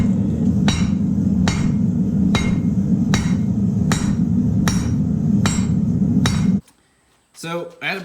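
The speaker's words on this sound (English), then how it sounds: "and then hammer it together." Ringing metal hammer blows strike forge-welded steel at welding temperature about twice a second over a roaring background, then stop abruptly, followed by a brief voice.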